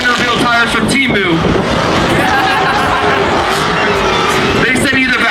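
At a large car meet, a car does a tire burnout. A loud, steady engine roar and tire noise fill the scene, with a crowd's babble and voices mixed in throughout.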